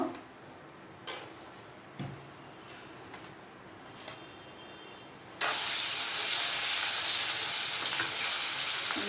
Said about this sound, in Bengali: কড়াই গরম হয়ে গেছে, আমি তেল দিয়ে দিচ্ছি মাছগুলো ভেজে নেবার জন্য